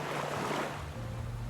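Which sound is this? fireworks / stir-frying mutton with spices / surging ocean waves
surging ocean waves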